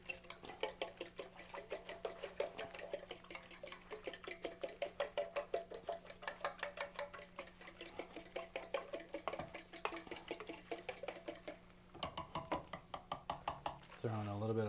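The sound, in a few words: beating eight eggs in a pan for pasta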